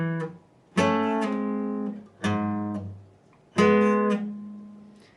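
An electric guitar plays the intro slowly, with four ringing chords, each struck and left to sustain and fade before the next one sounds.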